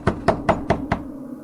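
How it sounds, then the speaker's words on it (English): Five slow, evenly spaced knocks on a wooden door, sharp and fairly close, ringing out alone in a quiet, tense horror setting. "The knocking came again"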